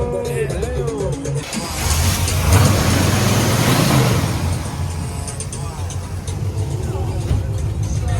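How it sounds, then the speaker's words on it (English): A BMW G30 540i engine rumbles and revs up loudly with a throaty, raspy exhaust dumped in the middle, then settles back to idle, with voices talking over it at a car meet. "This thing sounds good, bro. Exhaust is dumped right there in the middle."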